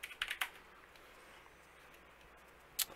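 Keystrokes on a computer keyboard while a server config file is edited, a quick burst of several clicks at the start, then a pause and one more sharp tap at the end.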